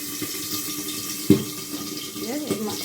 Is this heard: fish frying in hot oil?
yes